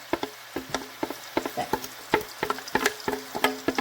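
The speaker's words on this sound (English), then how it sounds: "into our heated ghee, we're going to add our 2 shredded onions here" Two shredded onions frying in heated ghee give off a sparse, irregular series of sharp crackles and pops, close to the pan and alone without talk.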